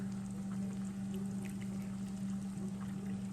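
Beef broth pours steadily into a skillet as a soft, continuous liquid stream over a low steady hum.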